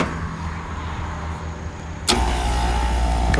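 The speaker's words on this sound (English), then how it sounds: "Compressor kicks on, blower motor kicks on." A Trane rooftop HVAC unit's compressor and blower motor start abruptly partway through, jumping from a low steady hum to a louder, broader mechanical whir that holds steady.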